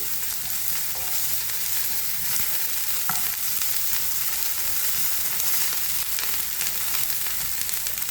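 Ginger garlic paste fries with onions in a pan as a steady, loud hiss and crackle, with a few faint scrapes of stirring, close up and without talk.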